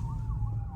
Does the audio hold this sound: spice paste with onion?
no